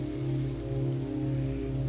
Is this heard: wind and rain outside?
yes